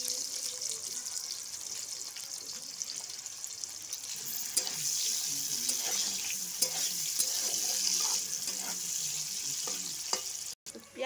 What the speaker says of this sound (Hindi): कढ़ाई में तेल, सरसों का तेल भी। अब हम ऐड कर रहे हैं बारीक कटा हुआ प्याज